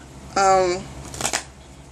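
A brief riffle of cards shuffled twice, crisp bursts of papery fluttering close by, following a short sung or hummed tone.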